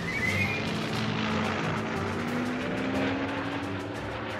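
A wooden high-speed WWII fighter-bomber airplane drones overhead in a steady, loud propeller-engine roar, its pitch slowly rising as it flies past, with no voices.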